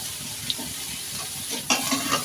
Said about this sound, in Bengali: আর আমরা কিন্তু এখন লেড়ে দিচ্ছি, নাড়াচাড়া করতেছি। নাড়াচাড়া করতে করতে ভেজে নিব।